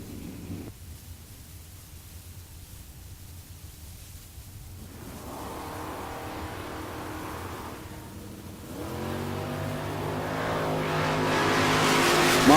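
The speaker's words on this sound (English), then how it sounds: "Jared Asbel, Camaro left side on a 650, getting chased down by Nate Martinez" Camaro drag racing at bracket races at the Texas Motorplex, its engine approaching and rising to a loud, sustained, accelerating roar near the end over open outdoor background noise.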